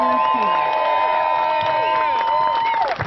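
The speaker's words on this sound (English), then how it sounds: "Can we please give a big round of applause to Ben Mansky?" Rally crowd for a Green Party candidate cheers and applauds Ben Mansky, a steady wash of clapping with scattered whoops and a voice over it, loud and continuous throughout.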